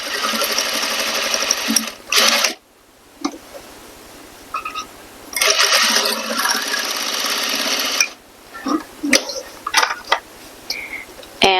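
A sewing machine stitches thick fabric for a corset modesty panel in long, steady bursts of rapid needle hammering, stopping and restarting several times with quiet pauses and small handling clicks between runs.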